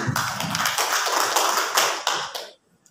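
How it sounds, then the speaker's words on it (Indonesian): Participants at a teacher-training workshop applaud, a cluster of close, uneven claps with sharp individual slaps that fade out abruptly before a brief near-silence. "Tepuk tangan untuk kita semua Bapak Ibu"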